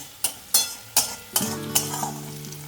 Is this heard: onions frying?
yes